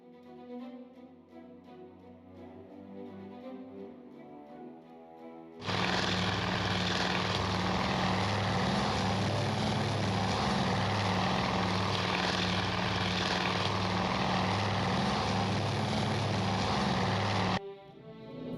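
A propeller aircraft engine in the naval war game Task Force Admiral starts abruptly as a loud, steady, throbbing roar, holds for about twelve seconds, then cuts off, following quieter background music.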